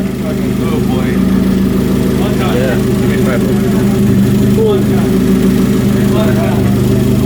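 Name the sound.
first start-up of built Hyundai Genesis Coupe engine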